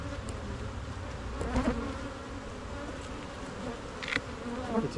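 Honeybees hum steadily around an open hive during a swarm check, a dense, continuous buzz with occasional louder passes as individual bees fly close.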